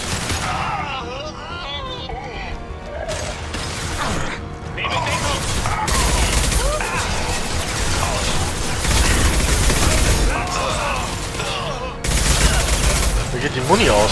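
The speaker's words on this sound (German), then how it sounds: "Feindbeschuss!" Enemy gunfire in Mass Effect 2, repeated bursts of shots and impacts crackling almost continuously, loud and close, with someone speaking German over the battle.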